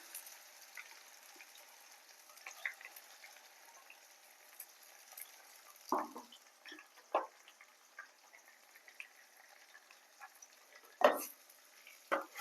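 Ground masala paste frying quietly in a pan for a meat curry, a soft low sizzle broken by a few sharp scrapes and clinks of a spoon stirring.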